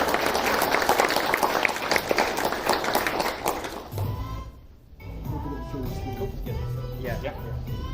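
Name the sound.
audience applause for speaker Lee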